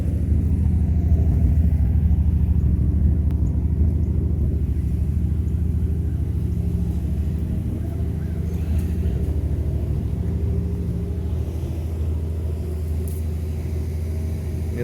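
A 1973 Dodge D100 pickup's engine warms up at a steady idle, a continuous low rumble holding even for the whole stretch with no voices over it.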